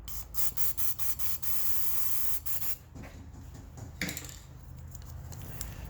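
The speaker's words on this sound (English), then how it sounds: "some spray paint, shoot it into your cap." A spray can of touch-up paint hisses in several short bursts into a cap, then one long steady spray, followed by quieter rustling and handling noises.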